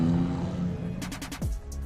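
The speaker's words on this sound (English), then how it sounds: "You can hear the cars getting ready for the open battles." Drift cars in the pits before open Top 32 battles at Teretonga, New Zealand, rumbling and idling in a continuous low drone, with a brief revving sweep partway through.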